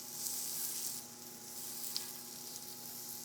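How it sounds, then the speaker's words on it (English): Lamb chops sear in a dry, well-greased good-quality skillet, giving a steady, soft sizzle with no one talking over it. "I love that sizzle."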